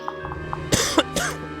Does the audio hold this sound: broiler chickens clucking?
no